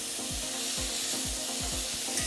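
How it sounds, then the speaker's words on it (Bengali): Pointed gourd and potatoes being stirred in a frying pan, a steady sizzle of oil under repeated scraping strokes of a spatula, roughly every half second, close and even. "এভাবে নাড়াচাড়া করে কিছুক্ষণ ভেজে নিতে হবে"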